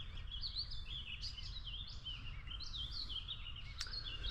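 Birds call and chirp repeatedly over a lake in Maine, bright, fairly distant tweets rising and falling above a steady low rumble of wind or water, no voices.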